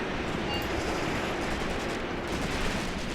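Sustained infantry gunfire from Graviteam Tactics, a World War II tactics game, rolling on as a dense, steady wash of rifle and machine-gun shots with no clear gaps, loud and continuous throughout.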